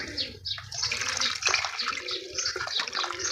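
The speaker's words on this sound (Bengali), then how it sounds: "আর একটু জল দিয়ে দিই চলো" Water is poured into the pot of a freshly repotted old gandharaj (gardenia) plant, giving a close, irregular splashing and trickling flow that rises and falls across the whole stretch.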